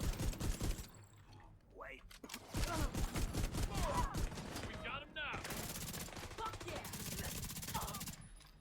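Rapid gunfire in The Division 2, with sustained automatic bursts and fusillades up close, broken by short pauses and mechanical clicks, under a player's voice.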